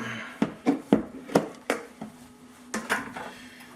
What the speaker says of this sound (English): Shake it up.